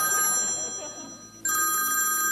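A telephone rings indoors with a bright, sustained electronic tone that fades briefly and then returns loudly, ringing alone without talk.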